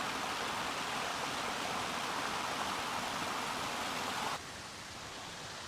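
A stream flows along a hiking trail through mossy woods, its steady broadband rush faint and continuous, dropping slightly softer near the end with no voices.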